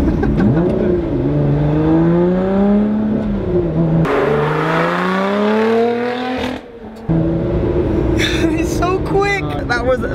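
A supercar engine revs up and down through rising and falling tones, close and loud, with people talking over it.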